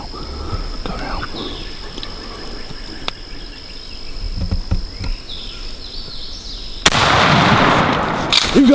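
Shotgun blast fired at a wild turkey during an Alabama spring hunt, a single sharp loud report following quiet woodland ambience with insects and hushed voices, then lingering echo and rustling.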